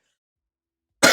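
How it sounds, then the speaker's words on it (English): A single sharp cough bursts in at the very end after a second of silence, loud and close, from a man pausing while discussing a Blue Archive tier list. "I've been talking a lot, so I got a cough."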